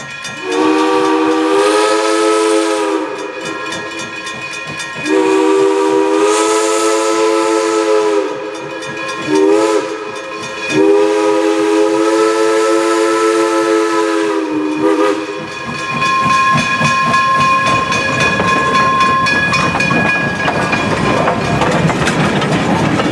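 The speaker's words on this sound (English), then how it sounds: "The train crosses the Red Clay Creek once more" A steam double-header train rumbles past on a small country road near Red Clay Creek while its whistle sounds several long, loud blasts, followed by continuing rolling and hissing noise from the passing cars.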